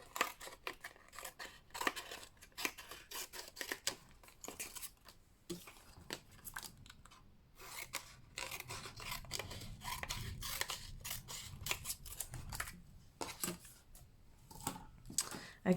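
Scissors snipping through paper craft pieces for a Christmas pyramid decoration, a long run of quick, close, dry cuts with short pauses and soft handling of paper in between.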